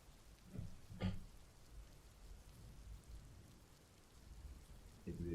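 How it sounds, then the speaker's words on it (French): Steady, faint rain falling as background ambience in a tabletop role-playing game session, with a couple of soft knocks and low rumbles, no talk. "vous avez toujours donc cette pluie qui tombe"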